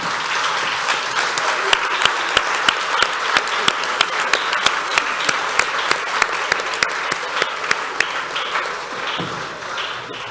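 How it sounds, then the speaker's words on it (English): A standing audience at an international student summit claps for international students, a full, sustained wash of applause with a few sharp, distinct claps cutting through near the front, loud and continuous throughout. "So let's all stand up and appreciate and applaud."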